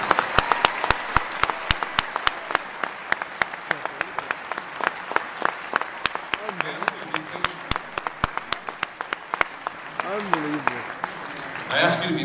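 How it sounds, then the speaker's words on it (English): Audience applauding debate candidates: a long run of sharp, separate hand claps, fairly close and loud, which thins out near the end. "Now's your time to applaud."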